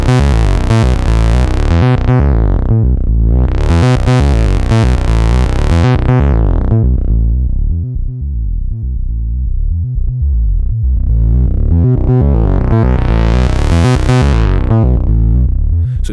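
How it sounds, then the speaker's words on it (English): Driven synth bass line through an Analogue Solutions Telemark multimode filter, low pass output with the gain switch up, a loud, thick repeating pattern whose resonant cutoff sweeps down and back up twice, with no voices. "here's the sound of the low pass."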